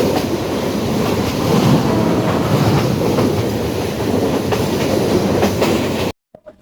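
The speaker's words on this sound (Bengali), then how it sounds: "অবশেষে আমরা ট্রেন থেকে নামলাম।" A passenger train rolling on rails on the journey to Sreemangal, a loud continuous rumble with rhythmic wheel clatter heard from on board, cutting off abruptly near the end.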